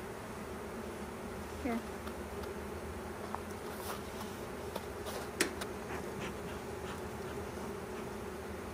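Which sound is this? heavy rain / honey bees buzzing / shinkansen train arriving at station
honey bees buzzing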